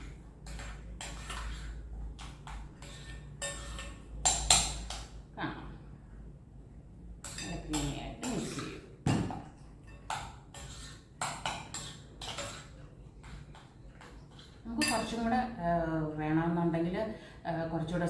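Spoon clinks and scrapes against a bowl while egg sandwich filling is mixed with pepper powder, coming in short bursts under a person speaking throughout.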